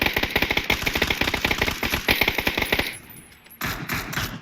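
Machine-gun fire in the PUBG battle royale during an esports finals match, loud rapid bursts of shots in a dense stream that stops abruptly, followed by a quieter stretch of ambient noise.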